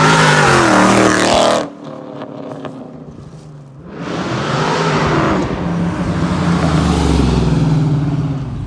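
A cammed 2013 Dodge Challenger R/T with a 2.9 Whipple supercharger roars loudly up close, then drops away briefly before a second hard-accelerating pass sweeps by with a rising, sustained engine howl.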